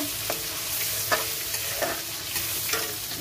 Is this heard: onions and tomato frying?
yes